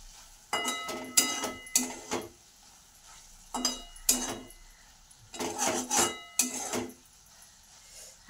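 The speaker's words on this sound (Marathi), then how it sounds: "आता मी प्लेट उघडते आणि गवारची भाजी झाली का बघा." A metal plate lifted off a pan of cooked guar (cluster bean) vegetable in a home kitchen gives several close clinks and scraping clatters of metal cookware, arriving in irregular clusters with quiet gaps between them.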